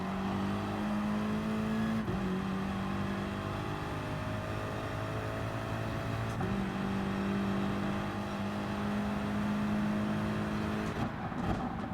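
Dirty, rough race car engine from Gran Turismo Sport, a Gr.1 Le Mans prototype, drones steadily and loudly for the whole stretch, its pitch stepping up and down as the car shifts gears.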